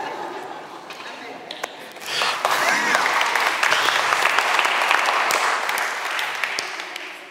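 An audience breaks into applause at a talk, a dense, sustained wash of clapping that rises after a quieter, spoken opening and holds steady to the end.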